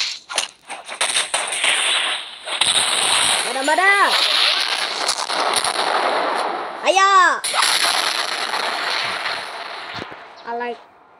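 Loud video game gunfire and explosive blasts in a battleground game, with booming hits, splashy bursts and rapid crackling shots over a constant roar, and voices calling out in the middle.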